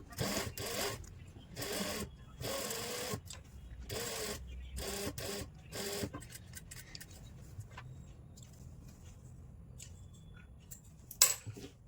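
Sewing machine stitching a lined kurti near the neckline, running in a rapid series of short whirring bursts for about six seconds, close-up, then quieter handling noises.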